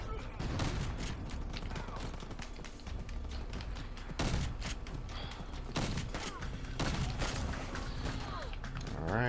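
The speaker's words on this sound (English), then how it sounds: "Long range shotgun." Shotgun fire in the R.I.P.D. video game: several heavy blasts at irregular intervals, loud and close, over busy mechanical clatter and game noise.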